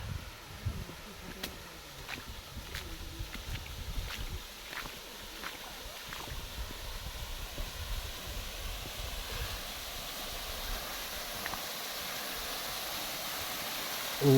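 Steady broadband rush of a forest waterfall, continuous and fairly loud, a constant wash of falling water with a few faint clicks and footsteps over it and no voices.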